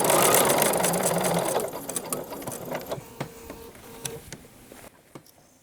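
Sewing machine stitching quilt binding, a loud, fast mechanical whir for the first second and a half that drops to softer, scattered ticks and clicks as the stitching stops.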